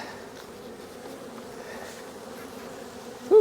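Honey bees buzz around an open beehive during a hive inspection, as boxes of brood and honey are handled. The drone is steady, close and continuous, with a brief louder sound at the very end.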